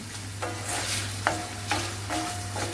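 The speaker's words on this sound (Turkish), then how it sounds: "Şimdi böyle bir iki kez şöyle çevireceğim. Etimize yağlarımız iyice geçsin." Meat turned over in hot oil in a pan for a Turkish tomato and meat dish, a continuous sizzle with three or four distinct scraping strokes of a utensil, close and fairly quiet.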